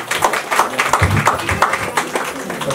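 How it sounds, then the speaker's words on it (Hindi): An audience at a Christmas and New Year celebration claps in a dense patter of applause that keeps going at an even level, with some voices mixed in. "जोरदार तालियों को"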